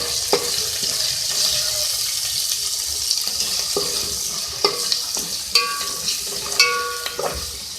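Spoon stirring turmeric powder into fried ginger-garlic paste in a pan for beef aloo fry masala, a soft steady sizzle under scattered sharp scrapes and taps of the utensil against the pan, no talk.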